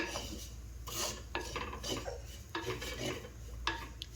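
Spice powders dry-roasting in a hot pan for chicken curry, with a rasping scrape of a utensil stirring against the pan in repeated strokes, close and steady.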